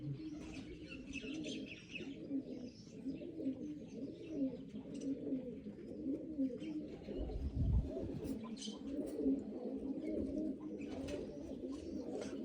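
Pigeons coo softly and repeatedly in the background, with occasional chirps from other birds and faint voices nearby.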